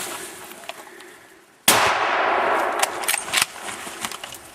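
A rifle shot cracks loudly during a moose hunt in the Alaska Yukon wilderness, one sharp blast followed by echoing rumble and a few quieter knocks and rustles.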